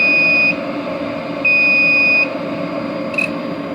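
Everlast TIG welder water cooler with a 256si welder, beeping at start-up: two loud steady electronic tones, one about half a second and a longer one under a second, then a brief third chirp over a constant fan hum.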